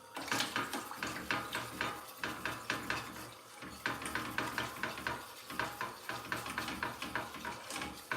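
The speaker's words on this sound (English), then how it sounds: "let's stir this" Banana cream pie filling stirred in a pot, a spoon scraping and knocking against the metal in a steady repeating rhythm, close and fairly quiet, with no voices.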